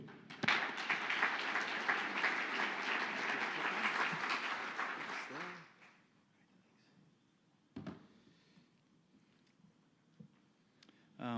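Conference audience applause rises suddenly and holds as steady, dense clapping for about five seconds, then dies away into a quiet room with a couple of soft thumps.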